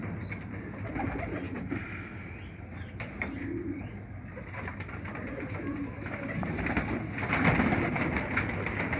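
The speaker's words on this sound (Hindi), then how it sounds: "कमर मियाँ से गुजारिश करूँगा कि अपने अबरे कबूतर दिखाएं" Abri pigeons coo softly and repeatedly over a busy outdoor background, with occasional wing flutters and chirps mixed in.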